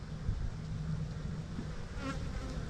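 Bees buzz close around a beekeeper's face at an open hive on a warm day, a loud, continuous droning hum with individual insects flitting nearby.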